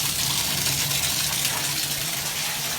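Water gushes steadily from a tap into a bathtub, a loud, continuous broadband rush that holds evenly throughout.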